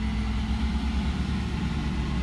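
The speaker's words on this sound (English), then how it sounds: "It's an 18-wheeler and an 18-wheeler in the same spot, Lord." An 18-wheeler truck's engine produces a heavy, steady low rumble that stays constant and close throughout, with no other sounds.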